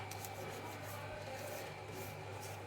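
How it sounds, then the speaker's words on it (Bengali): A dirty household switch board is rubbed lightly by hand to wipe off grime, giving a steady, close, quiet scraping rasp that carries on without a break and has no talk over it. "এই দেখো একটু খেয়াল করো হালকাভাবে ঘষছি সুইচ বোর্ড"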